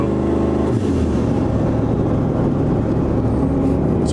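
A turbocharged car engine revs hard and spools up, a loud, dense, close roar that holds steady, with a brief dip in pitch near the start.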